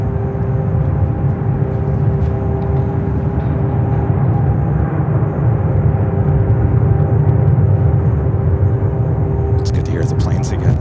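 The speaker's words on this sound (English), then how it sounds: "It's good to hear the planes again." Airplanes at Los Angeles LAX airport give off a loud, steady jet roar with a humming drone that holds for about ten seconds, close and continuous, with brief sharp clatters near the end.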